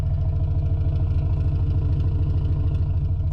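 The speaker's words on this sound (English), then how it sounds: "It's got a decent little idle to it." An Acura RSX engine with a custom exhaust idles steadily with a deep, throaty exhaust rumble, close and continuous, with a faint rattling clatter over it and no voices.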